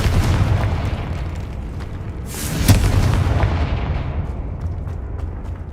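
Confringo blasting spell going off in Hogwarts Legacy: a sudden loud burst near the middle over a dense, rumbling game backdrop, followed by a lingering roar that slowly tails away.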